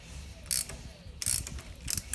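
A chain riveting tool is wound down on a motorcycle chain, giving three short bursts of metallic ratcheting clicks, close and fairly quiet, with light mechanical creaks between them.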